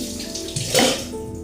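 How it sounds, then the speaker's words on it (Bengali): Tap water running steadily while paneer is rinsed in a home kitchen, a continuous close splashing stream that swells briefly in the middle. "আমি পনিরটা ভালো করে ধুয়ে নিয়ে আসছি"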